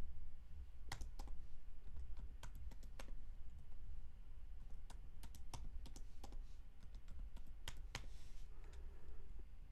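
Keys clack on a computer keyboard as a spending password is entered for a cryptocurrency wallet, a scattered run of sharp close clicks in short bursts over a steady low room hum, with no talking.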